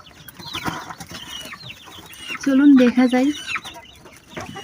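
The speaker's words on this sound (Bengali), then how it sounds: "শখের কোয়েল পাখিগুলো রয়েছে।" Pet quails kept in a small cage give clucking, chattering calls, one louder burst of rapid calls standing out near the middle, while a person speaks briefly nearby.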